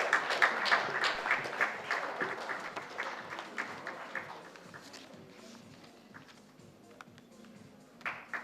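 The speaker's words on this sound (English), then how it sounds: "So, a big round of applause, ladies and gentlemen, for Mr. Patrick Tessier." Audience at an auto retail conclave inaugural session applauding a guest, many distinct claps at first, thinning and quieting over several seconds, with a few louder claps returning at the end.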